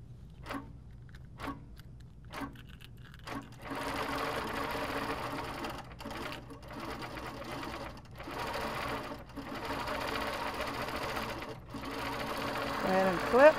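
An HQ longarm quilting machine driven by a Pro-Stitcher Premium computer starts with a few separate tie-off stitches, then stitches in a fast, steady rapid chatter with brief pauses, close and fairly quiet.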